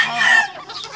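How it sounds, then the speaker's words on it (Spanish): Gamecock chickens let out a short, loud, nasal crow-like cluck up close, trailing into softer clucking, all within a second. "Salgo de las gallinas que tengo yo, unas gallinas giras"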